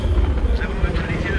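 A Havoc attack helicopter in the video game Battlefield 3 thrums as a steady rotor and engine drone, loud and continuous, with gunfire-like bursts and game effects layered over it while players talk.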